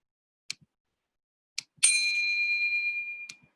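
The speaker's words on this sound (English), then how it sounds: "the bell sound will be rung at 1 minute mark and the 3 minute mark to denote that that time period is over" A bell rung as a time signal in a school parliamentary debate: a few short taps, then one clear ring that sustains for about a second and a half before fading, with a final tap after it. No one speaks.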